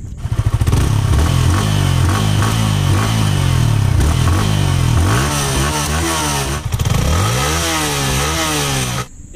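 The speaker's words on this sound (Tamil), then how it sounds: "ஸோ இதோட எக்ஸாஸ்டோட நோட் எப்படி இருக்குது அப்படின்றத நம்ம கண்டிப்பாக கேட்கலாம்" A Yamaha MT-15 motorcycle's exhaust barks loud and close, revving up and down in repeated rising and falling sweeps over a rough idle, with no talk.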